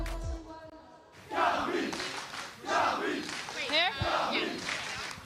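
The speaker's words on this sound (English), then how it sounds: "The fans are already out en masse cheering for the teams" A crowd of League of Legends fans at a grand finals event shouts and cheers in rhythmic waves, loud and close, with chant-like bursts rising and falling over several seconds.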